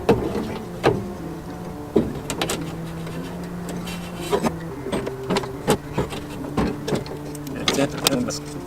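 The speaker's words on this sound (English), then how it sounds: "crank the regulator until it comes close to lining up." A window regulator is cranked inside an S10 pickup truck door, giving a steady whirring grind broken by repeated sharp clicks and knocks, close up and alone.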